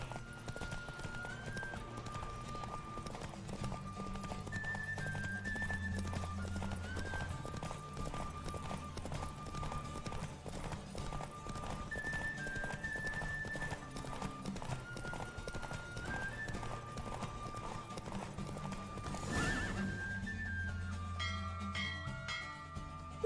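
A horse gallops in the video game The Witcher 3 with a fast, steady clip-clop of hooves. Sustained tones and chimes ring above the hoofbeats.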